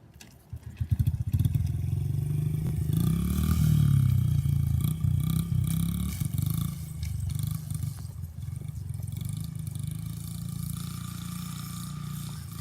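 A small 50cc dirt bike engine buzzes and revs steadily while being ridden, loud and close, with rattling clatter over uneven ground.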